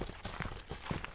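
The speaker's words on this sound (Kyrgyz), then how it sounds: "Анда аттын өнөрүн көрсөтүп бир бастырың." A Karabair horse walks on firm ground, giving a few soft clip-clop hoofbeats in a short, even rhythm, faint and at close range.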